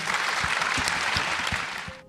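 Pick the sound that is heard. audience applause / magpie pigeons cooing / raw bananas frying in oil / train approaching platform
audience applause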